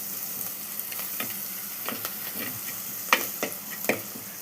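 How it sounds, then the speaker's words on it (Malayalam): Onions sizzle quietly in a frying pan, a steady soft crackle broken by occasional stirring scrapes and clicks, heard alone with no talking. "ഉള്ളി നന്നായി ഫ്രൈ ചെയ്തു."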